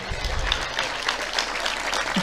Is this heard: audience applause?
yes